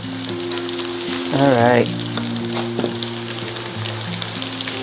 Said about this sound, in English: I'm pretty sure everybody knows how to fry tofu